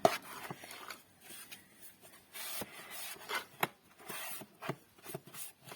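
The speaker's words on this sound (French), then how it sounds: "Je prends un chiffon et je passe un coup là." A cloth wiped across a surface makes soft, quiet rubbing strokes in an irregular rhythm, close by, with no talking.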